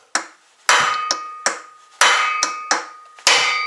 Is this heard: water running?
no